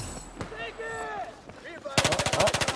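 Rapid pistol fire in the Battlefield 4 video game, a burst of about ten sharp shots in quick succession following a stretch of quieter game ambience with tonal effects.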